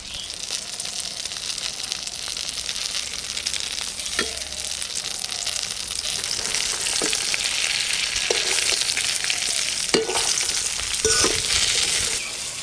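Fried eggplant sizzles steadily in a pan while green chillies and crushed neem leaves go in, a dense, continuous hiss broken by several sharp stirring scrapes and clicks, close and loud with no voices.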